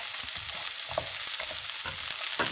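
Onions soften in oil in a pan over low to medium heat, giving a steady, gentle sizzle broken by soft scraping as they are moved around; no voices.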